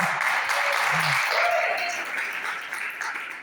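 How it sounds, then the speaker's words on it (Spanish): A church congregation applauds steadily, a dense wash of clapping that gradually fades, with a brief voice underneath at the start. "Un aplauso para Lore."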